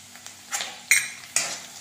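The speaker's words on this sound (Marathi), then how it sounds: "हलवू आपण सर्वप्रथम" A spoon scrapes ginger-garlic paste with ground coconut paste around a cooking pan over a medium flame, in three or four quick, close scraping strokes with faint sizzling and no talking.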